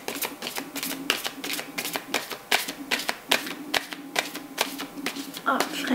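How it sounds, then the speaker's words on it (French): Tarot cards from an archangel tarot deck are shuffled and drawn, giving quick, close, crisp riffling clicks in a steady flurry while someone speaks softly underneath. "C'est parti, je vais prendre trois cartes."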